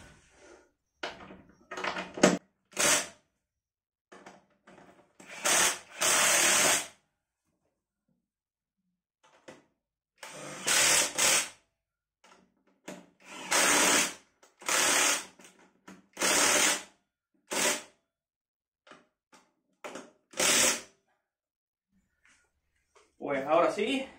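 Screws are tightened on a high stool with a backrest, built from metal and wood, in short bursts of a power driver whirring up close. Brief pauses fall between the bursts, and someone talks in between.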